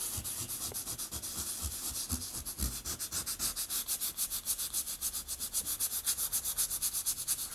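Hand sanding of wood filler on model rocket fins makes a close, steady series of rhythmic back-and-forth rasping strokes, growing more regular and pulsing as it continues, with no talking.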